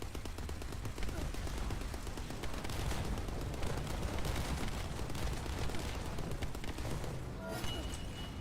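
Rapid sustained gunfire from The First Descendant video game, with dense machine-gun bursts and loud, continuous shots and impacts running almost unbroken through the whole stretch, plus a brief electronic chirp near the end.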